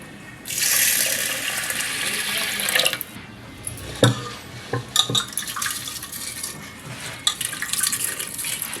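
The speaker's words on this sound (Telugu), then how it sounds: "దీన్ని వాటర్ వేసి శుభ్రంగా కడుక్కుందాం" Running water pours and splashes for a few seconds, then rice and pigeon pea lentils are swished and rinsed by hand, with wet clinks and sloshes, close up.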